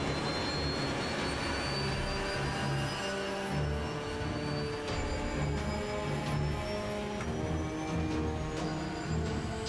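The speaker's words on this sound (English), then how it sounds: "The pilots execute another go-around." Boeing 737 jet engines roar during a go-around, a loud sustained turbine rumble with a rising high whine layered over it, continuous and steady for the whole stretch, with no voices.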